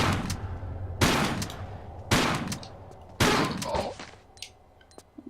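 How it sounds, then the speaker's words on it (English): Four heavy shotgun blasts from a Tomb Raider custom level video game, spaced roughly a second apart, each a loud booming crack that trails off, with no talking. "Let's just use the shotgun."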